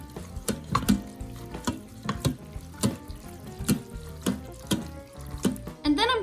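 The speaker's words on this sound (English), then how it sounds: "Then I'll go ahead and mix that one more time." Soup with diced tomatoes and green chilies gets stirred in a pressure cooker, a series of wet sloshing scrapes and utensil knocks in an uneven rhythm, close and fairly loud, ending with a brief clatter.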